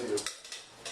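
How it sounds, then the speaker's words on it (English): A ricotta cheese mixture being stirred into drained pasta: a few soft, close scraping clinks of a utensil against the pot in a short burst, with no voices. "Give this a good stir"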